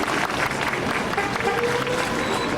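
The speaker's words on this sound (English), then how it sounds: "if you want to applaud any of these titles" An audience at a Hollywood Walk of Fame ceremony claps continuously throughout, a dense, even patter of applause from a crowd.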